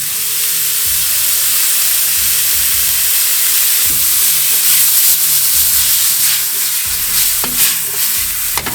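Duck and vegetables stir-fried with garlic and ginger in a hot pan give a loud, continuous sizzle, broken by repeated scraping and tossing strokes and a few sharp metallic clinks near the end.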